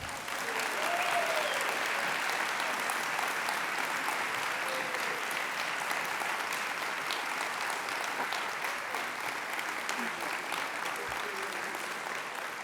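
A convention audience at an opening ceremony applauds donors, sustained, even clapping from a large crowd in a hall that stays steady for the whole stretch, with a faint voice heard briefly.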